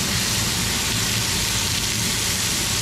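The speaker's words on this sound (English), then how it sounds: "I'd like it to be sizzling a little bit more aggressively than that" Big buck venison backstrap searing in a ripping-hot, smoking pan, giving a steady, close, moderately loud sizzle with a crackling hiss that holds evenly throughout, no talk over it.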